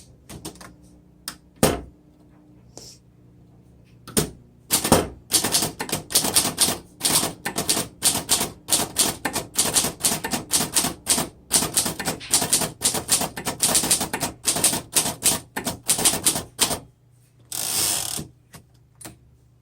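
Typing on a 1929 Underwood four-bank manual typewriter: a close, loud run of sharp key strikes in irregular bursts, with a few isolated clacks before and a carriage return or mechanical slide near the end, no talking.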